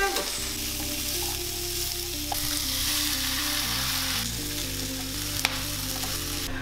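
Onion and three finely chopped garlic cloves sizzle in olive oil in a pan, a loud, steady frying hiss that runs unbroken from start to finish with a few faint stirring knocks.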